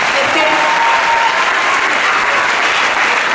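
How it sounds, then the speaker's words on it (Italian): A crowd at an Italian press conference for the Kung Fu Panda 3 film gives Alessandro sustained, dense applause, loud and even from start to finish. "ancora un applauso per Alessandro"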